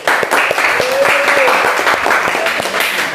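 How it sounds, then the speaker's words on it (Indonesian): A short burst of applause fills the space, dense clapping with voices mixed in and a brief tonal sound partway through, loud and close. "Hebat, tepuk tangan."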